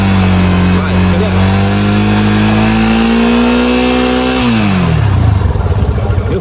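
A Yamaha motorcycle with a weak battery that struggles to start, its engine running steadily loud and close and then dropping away near the end, with a voice speaking over it.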